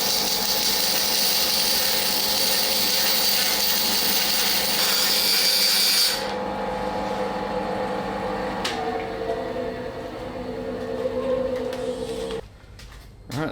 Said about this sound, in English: So let's go and get back to the bandsaw.